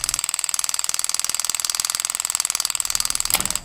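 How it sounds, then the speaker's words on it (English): A Vet Tome solenoid handpiece taps rapidly and steadily, about twenty sharp mechanical clicks per second forming a buzzing ratchet-like rattle, close and constant until it stops near the end. "Stepping on the pedal activates the solenoid, which then transfers impact energy 20 times per second through the handpiece to the tip"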